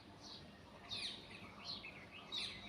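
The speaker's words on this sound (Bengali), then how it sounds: "কি সুন্দর পাখির কিচিমিচি আওয়াজ শোনা যাচ্ছে চারপাশে" Birds chirp outdoors in short, high, repeated calls from a little way off, faint over a soft background hum.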